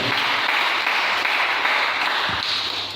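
A church congregation applauds the Lord in a steady, dense wash of clapping that holds evenly throughout and tapers slightly at the close.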